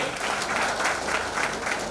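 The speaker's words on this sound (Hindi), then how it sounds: "एक बार जोरदार तालियां विनय जी के लिए।" An audience at an STFI Maharashtra unit event in Mumbai gives a short, dense round of applause, steady and fairly loud for about two seconds.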